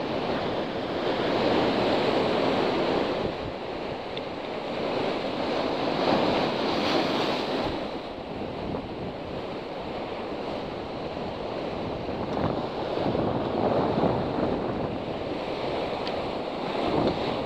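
Sea waves break and wash continuously against a rocky shore during sea bass spinning fishing, a loud, churning surge with wind buffeting the microphone and no talking.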